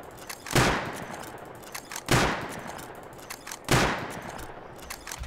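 Three loud, sharp shots ring out from a bolt-action rifle fitted with a muzzle booster in the video game Rust. They are evenly spaced about a second and a half apart, and each one trails off in a short echo.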